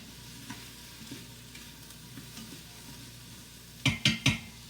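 Ham, peas and garlic sautéing in a pan: a steady low sizzle with occasional soft stirring taps, then three sharp clanks of a utensil against the pan near the end.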